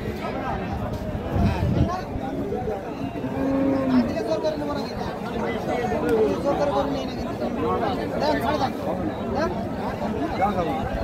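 Friesian and crossbred cows low and moo repeatedly amid a busy cattle market crowd, with people talking and chattering all around.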